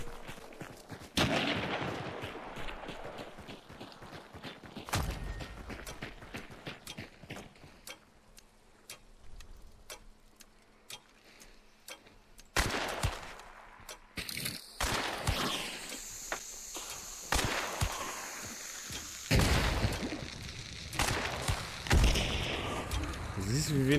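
Pistol shots in the video game Hunt: Showdown ring out as several sharp cracks spread across the clip, mixed with footsteps, mechanical clicks and game ambience while people talk over the action.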